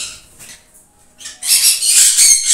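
A breeding pair of double red factor pineapple conures gives harsh, high squawks, a few faint calls early then a loud, dense burst of close screeching in the second half.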